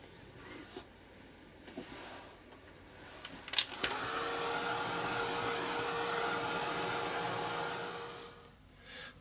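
A hair dryer switches on with a couple of clicks and blows steadily for several seconds, drying white paint splatters on a journal, a close, even whooshing whine that then cuts off.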